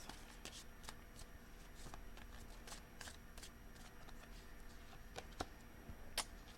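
Very faint shuffling of tarot cards, soft riffles and taps repeating at an uneven pace, close but quiet.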